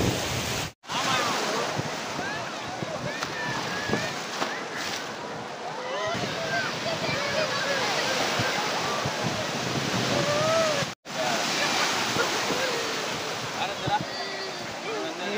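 Ocean surf rolls and breaks steadily at Kothapatnam beach, with wind buffeting the microphone throughout; the broadband wash is loud and continuous, broken only by two brief dropouts.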